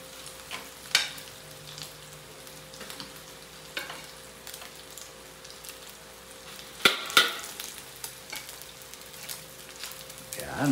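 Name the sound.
rice being stir-fried in a pan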